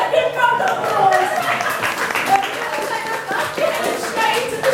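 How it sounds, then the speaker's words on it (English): Brief clapping from a show audience in Blackpool rises and falls beneath a voice, with scattered hand claps mixed into the chatter. "round of applause"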